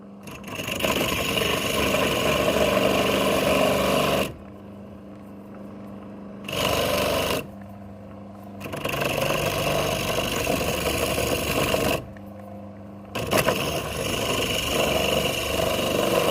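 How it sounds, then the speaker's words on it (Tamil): Motor from a reused grinder turned coconut scraper whirs loudly in steady stretches, cut by several short pauses where it drops quiet before spinning back up. "இப்போ வந்துட்டு பார்த்தீங்கன்னா மோட்டரை வந்து ஆன் பண்ணிக்கலாம்"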